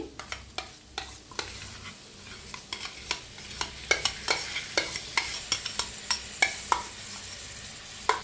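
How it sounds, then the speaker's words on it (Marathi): Yogurt being stirred into masala in a pan for masale bhaat, a spoon scraping and tapping in a quickening rhythm over a soft, steady sizzle, close and clear. "दह्याला चांगलं मिक्स करून घेऊया मसाल्यातने।"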